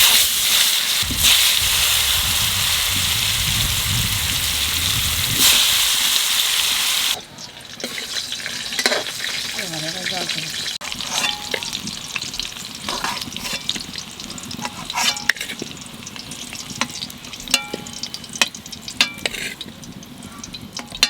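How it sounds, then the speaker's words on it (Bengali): Diced potatoes hit hot oil in a pan, starting with a loud, dense sizzle that drops off abruptly, then settles into quieter crackling and occasional stirring clinks for the rest of the clip. "তা আমি আগে প্রথমেই আলুটা বাজিয়ে নেবো।"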